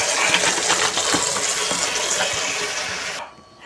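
Thawed chicken being washed under a running kitchen tap, with water gushing and splashing steadily close by before cutting off abruptly near the end.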